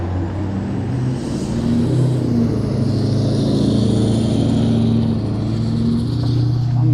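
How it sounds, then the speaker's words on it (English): Car passing on a road heard from an e-bike, a steady, loud low rumble of traffic and wind that holds evenly throughout. "Let this car go."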